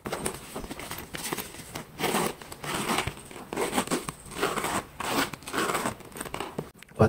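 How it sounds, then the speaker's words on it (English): Repeated short rasping bursts of a Louis Vuitton OnTheGo handbag zipper being pulled back and forth, close by, with brief pauses between strokes. "The zippers of them are similar too. Even the sound of the zippers."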